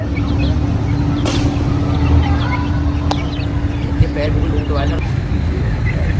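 Hen with her thirteen chicks in a home garden: soft clucks and thin peeping chirps scattered over a steady background hum, with a few sharp clicks and faint distant noise.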